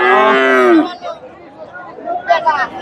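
A Friesian cow gives one loud, drawn-out moo close by at a cattle market in Bogura, followed by murmuring voices and background chatter.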